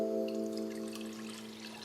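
Water pours steadily into a pot or kettle on a hot plate, a soft continuous trickle under a steady tonal hum, close and fairly quiet.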